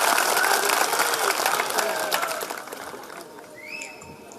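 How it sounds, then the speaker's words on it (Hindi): An audience at a nighttime religious question-and-answer gathering claps together, a loud dense burst that gradually thins and fades toward the end as a voice begins. "बहुत अच्छा प्रश्न है, ताली बजाओ माँ की।"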